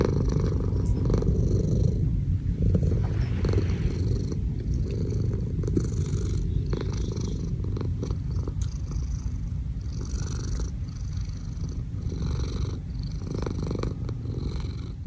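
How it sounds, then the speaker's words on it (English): A domestic cat purring on a bed on a Sunday morning, close and continuous, with a low rumbling pulse that rises and falls with each breath for about fifteen seconds. "The sound of a cat's purr to me is just the sound of safety, warmth, family, everything's good."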